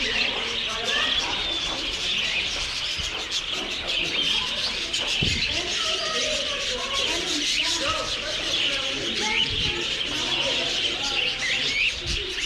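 Birds chirp and coo at an interactive bird display in a Texas wildlife park, with steady twittering and soft dove-like calls throughout, and people talking nearby over the birdsong.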